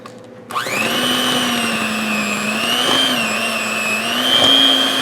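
An electric hand mixer starts abruptly and whirs at a steady, loud pitch, beating no-bake cheesecake filling of room-temperature cream cheese, whipped topping and keto monkfruit sugar.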